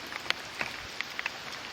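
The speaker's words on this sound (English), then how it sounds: "We have a guest visitor on the show today, and that is called The Rain." Light rain patters outside near a clover field, with sparse, faint individual drops ticking on a surface over a soft steady hiss; quiet and without voices.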